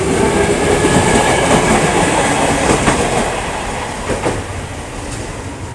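A train passes straight through Gang Sentiong railway station without stopping, a loud, close, steady rumble with wheel clatter on the rails that eases slightly as it moves away.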